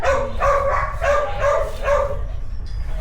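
A reactive shelter dog named Roman barks in a quick series of five or six loud, close woofs evenly spaced, then falls quiet.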